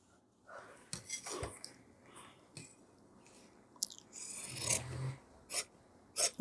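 Scissors cut boot-cut pant fabric along a marked line, giving a series of crisp rasping snips and rustles of cloth at close range with short pauses between them.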